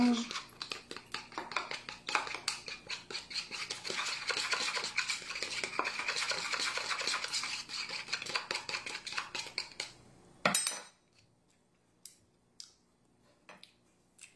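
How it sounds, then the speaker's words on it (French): Salad greens are tossed with a maple syrup dressing in a bowl, making a steady run of clattering utensil scrapes and clinks that stop suddenly, followed by a few faint taps and quiet moments. "On mélange."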